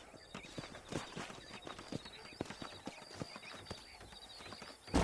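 Horse hooves clip-clopping in the Red Dead Redemption video game, a steady walking rhythm of hoofbeats at moderate distance, fairly quiet, with a brief whinny-like sound and a louder thump at the end.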